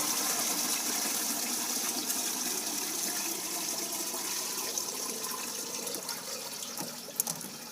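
Water drains steadily from an aquaponics filter in a continuous, fairly quiet rushing and gurgling flow, with no voices.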